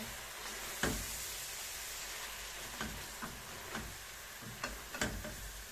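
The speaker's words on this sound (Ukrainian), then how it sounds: "Даємо сюди муку. Перемішуємо." Flour being stirred into a sizzling mixture in a frying pan, a steady frying hiss with a few sharp scrapes and clicks of the utensil against the pan, close and fairly quiet.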